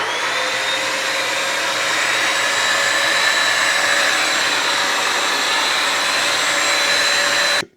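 A Bissell PowerFresh Vac & Steam mop in vacuum mode runs with a steady, high-pitched whine up close, then cuts off abruptly at the end.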